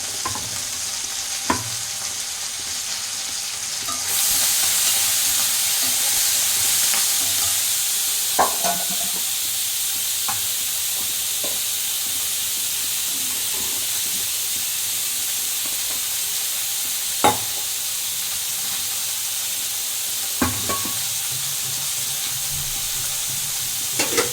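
Rice frying in a pan while being stirred, a constant close sizzle and hiss with occasional sharp scrapes and clinks from stirring, the sizzle swelling briefly near the start.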